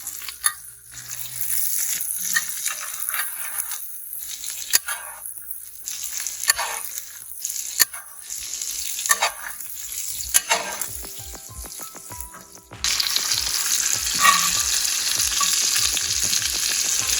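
Steak sears in a hot pan with butter, crackling and sizzling up close, with stirring and scraping pauses before the frying grows louder and steadier near the end.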